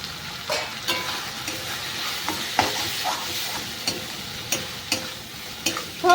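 Ground chilli, coriander and garam masala with meat masala and a whole tomato fry in a pan for a cauliflower and egg curry, giving a steady sizzle broken by repeated scraping stirs and light clinks, with no talking.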